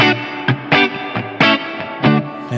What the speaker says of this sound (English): This is a plate reverb on the Keeley Zoma.